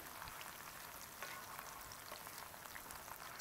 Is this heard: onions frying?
yes